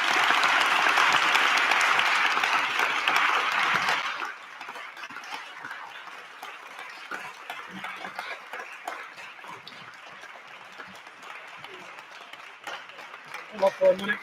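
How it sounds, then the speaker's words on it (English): An audience at a gubernatorial debate claps loudly for about four seconds, then the applause thins to scattered claps and murmurs while people talk and move around the room. "Let's give them a round of applause, everybody."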